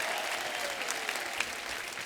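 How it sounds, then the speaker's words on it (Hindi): Studio audience at a comedy show applauding loudly, a dense, continuous wash of clapping heard alone. "जोरदार तालियां हो जाए"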